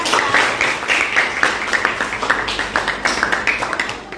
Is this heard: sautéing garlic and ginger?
no